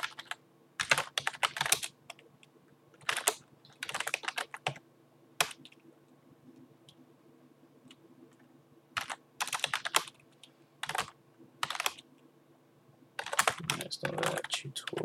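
Quiet, close bursts of typing on a computer keyboard while entering commands at a command-line prompt, with rapid clicking runs separated by short pauses and no speech.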